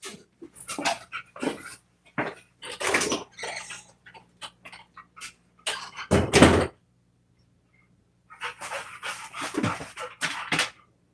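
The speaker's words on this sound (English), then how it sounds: "I gotta water my dog." A dog pants and snuffles close by in short bursts, with a louder clatter like a bowl or door partway through, then more panting after a brief silence.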